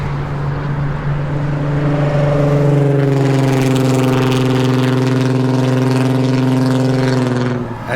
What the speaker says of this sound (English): they have noisy cars too.